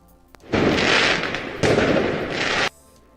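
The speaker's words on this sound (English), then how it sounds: "So let me bring the fireworks back for a second." Fireworks effect in Field of Heroes, an online fantasy soccer brawler game: two long, dense crackling bursts of pops and booms, loud and close, with a short gap between them and no talk.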